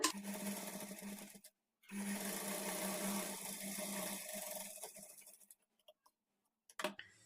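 A sewing machine top-stitching blouse fabric, running in two steady mechanical bursts of a few seconds each with a brief pause between, followed by a few isolated clicks and taps.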